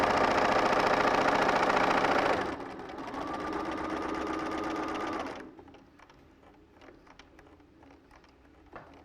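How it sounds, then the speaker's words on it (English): A sewing machine with a dual feed function stitches quilting fabric pieces, whirring loudly in a steady run, then slowing to a softer hum before stopping, leaving faint handling clicks and rustles. "If you're lucky enough to have the dual feed function on your sewing machine, you can adjust that and get it to do it for you"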